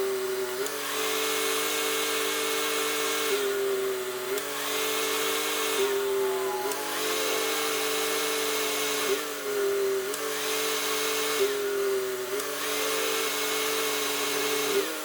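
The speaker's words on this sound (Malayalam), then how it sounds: "അപ്പോൾ നിങ്ങൾക്ക് കംപ്രസർ കട്ട് ഓഫ് ആവുന്നത് കാണാൻ പറ്റും" A car's air-conditioning compressor runs with a steady mechanical hum that repeatedly cuts off and kicks back in every couple of seconds, giving a rhythmic on-off pattern; no one speaks.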